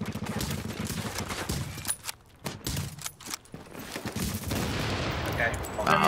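Rapid bursts of gunfire in the video game The Division, loud clustered shots and volleys with brief gaps, mixed with faint voices.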